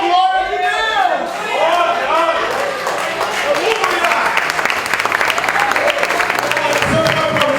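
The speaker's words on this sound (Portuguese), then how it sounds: "Aplauda mais um pouquinho. Aplauda mais forte." A church congregation at a youth worship service claps loudly and continuously while voices and a speaker talk over it, the applause building into a dense, energetic wash near its end.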